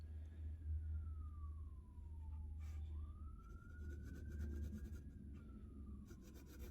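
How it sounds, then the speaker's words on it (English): A police car siren wails faintly in the distance, its pitch sliding down and then sweeping up and down again over a steady low rumble, with no voices. "That is a cop car with its siren on."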